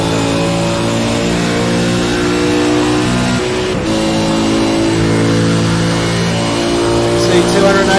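A V8 race car engine screams at high, steady revs while accelerating on a circuit, loud and close as if heard from onboard, with someone talking over it.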